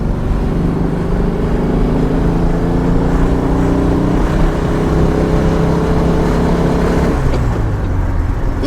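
A 1968 VW Type 3 engine revs hard and steady near the rev limiter, a loud continuous drone with wavering pitch throughout, easing slightly near the end.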